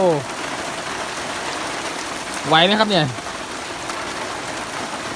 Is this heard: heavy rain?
yes